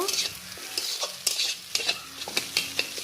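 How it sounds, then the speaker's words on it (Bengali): Scrambled eggs fry in a pan with a soft, continuous sizzle, broken by quick scraping strokes of a spatula stirring them, close and alone. "ডিম 2টা ভাজার পর পুরো ঝুরা ভাজা করে নেব"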